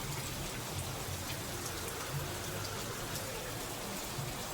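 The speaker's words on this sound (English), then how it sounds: "It is raining right now." Rain falls steadily as a soft, even hiss with scattered drops tapping on nearby surfaces, constant and fairly faint throughout, with no voices.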